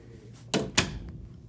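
A door closes indoors in two quick thumps, the second a firm shut, close by and alone against a quiet room.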